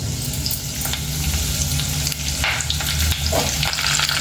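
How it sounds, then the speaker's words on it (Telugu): Urad dal and a handful of curry leaves fry in hot oil for a ridge gourd chutney, giving a steady loud crackling sizzle with occasional pops and stirring scrapes throughout. "ఇప్పుడు ఆయిల్ వేడైంది కదండి మినపప్పు వేసుకుందాము ఇప్పుడు దీంట్లోనే గుప్పెడు కలెమాకు"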